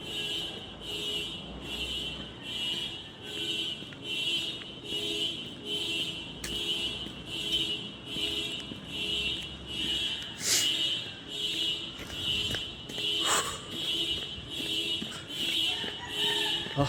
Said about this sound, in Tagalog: May alarm.